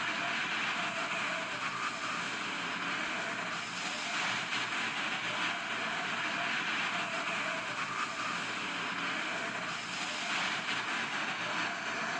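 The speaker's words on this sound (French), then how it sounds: "On entend le vent et tout là." Wind roars steadily over a Huawei Mate 40 Pro phone microphone outdoors, a broad constant rushing noise with gusty swells, fairly faint overall.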